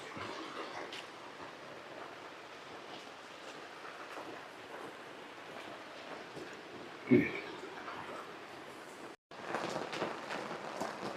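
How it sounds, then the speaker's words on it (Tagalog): Heavy rain pouring down outdoors in a steady, faint wash of hiss, with a brief thump and a short dropout near the end. "bumigay na yung ulan"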